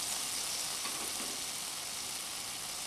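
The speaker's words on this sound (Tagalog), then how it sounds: "itutuloy lang po natin itong ganitong pagpiprito natin hanggang sa matapos nating lutuin yung ating mga tempra" Tempura frying in hot oil, a dense, even hiss of sizzling that holds steady throughout with no talking.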